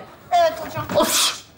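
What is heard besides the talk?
sneeze, caused by black pepper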